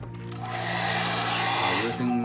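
A hair dryer runs close and steady while heating the screen edges of a DOOGEE S88 Pro phone during a repair, giving a continuous whooshing hum with a slight shift in pitch near the end.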